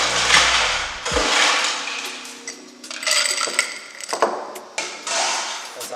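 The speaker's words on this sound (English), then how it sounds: "I'm going to add some ice to my glass." Ice cubes drop into a glass of June plum juice: close clinks and knocks scattered across several seconds, some loud and some lighter, with no talking.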